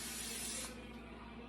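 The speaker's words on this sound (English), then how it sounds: "So this is spray olive oil." Olive oil cooking spray bursts from a can in a home kitchen, a short, close, loud hiss lasting well under a second before cutting off.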